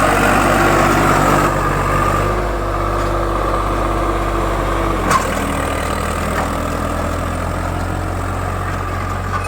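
Tractor engine labouring under load, John Deere 5410 against Swaraj 855 pulling an 18-tine harrow, a steady low diesel rumble that shifts pitch slightly a couple of times, close and loud with no talk.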